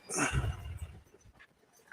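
Dogs bark at the neighbor's tree trimmers, one short, close bark at the start that fades into a quiet yard with faint rustles.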